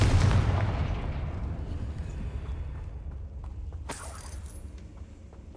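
A Confringo fire-spell explosion in the Hogwarts Legacy game: a loud, deep boom at the start that rumbles and fades over several seconds, followed by a sharp crackle and smaller debris sounds.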